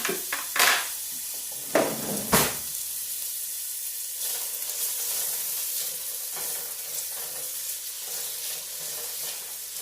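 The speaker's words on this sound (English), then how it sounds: "Now I'm going to dump these onions and peppers in my pan." Chopped onions and peppers hit a hot pan with a few clanks, then settle into a steady, close sizzle that carries on alone without any talk.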